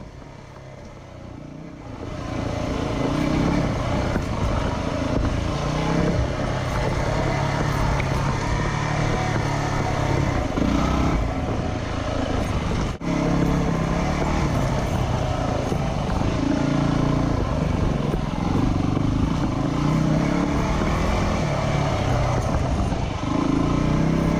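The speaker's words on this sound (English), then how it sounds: "let's do some trail riding and have a great time because that's what we do on the WR" A Yamaha WR dirt bike rides a trail, its engine droning loud and steady throughout with shifting tone as the throttle changes, after a quieter opening couple of seconds.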